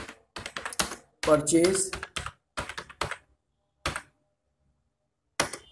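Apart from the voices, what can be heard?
typing a journal entry narration on a computer keyboard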